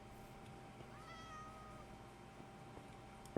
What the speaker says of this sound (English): there's a cat here. Oh look at this cat